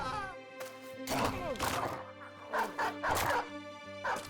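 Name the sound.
dogs barking in a video game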